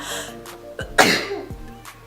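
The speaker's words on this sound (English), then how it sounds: "I really have to sneeze right now." A single sharp sneeze bursts out near the middle, surrounded by short breathy sounds, close and fairly loud.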